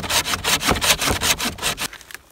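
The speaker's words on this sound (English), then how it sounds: "start sawing one of those rounds or both together right through there" Outdoors, a hand saw cuts through rounds of wood in rapid, rhythmic strokes, about a dozen close back-and-forth rasps before stopping abruptly.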